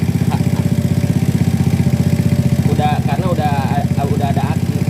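Honda motorcycle engine, an older C70 or C800 type model, idling close by with a steady low pulsing chug while someone talks over it.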